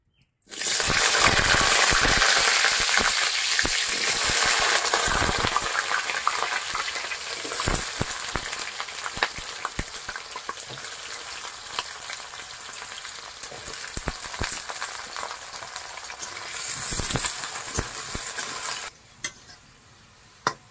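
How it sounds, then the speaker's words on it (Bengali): Cut potatoes fry in mustard oil, a loud, dense sizzle that starts abruptly, softens slightly as cooking settles, and carries scattered utensil clicks before cutting off near the end, with no speech. "এই যে আলুটা আমি কেটে রেখেছিলাম সেই আলুগুলো আমি ভেজে নেব"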